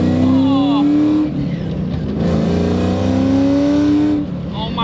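A 700-horsepower Terminator Cobra pulls hard in third gear, its engine note climbing steadily and loudly through the run with a brief dip midway, while a voice talks over the roar.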